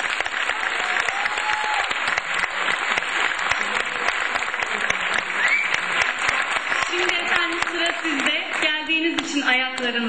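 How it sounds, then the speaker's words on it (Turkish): A concert audience applauds the conductor of the Koç University Turkish classical music club choir, with a busy wash of clapping that gives way near the end to a voice over thinning applause. "şefimize en büyük alkış"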